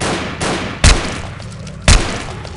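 Two heavy gunshots strike zombies in the Dead Epidemic shooter game, spaced about a second apart, loud and close over a constant rumbling background.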